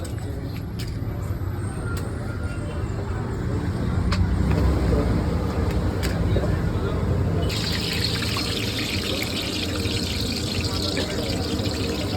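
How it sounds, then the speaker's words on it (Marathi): Vadas frying in hot oil at a vada pav stall, a steady sizzling bubble that grows brighter and more crackling partway through, with street noise and people talking around it. "छानपैकी वडे तळले जातात."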